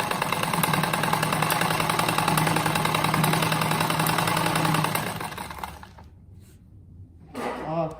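A sewing machine stitches small fabric scraps into a patchwork runner with a fast, loud, continuous mechanical buzz for about five seconds, then stops, leaving a quiet room with a brief rustle at the end.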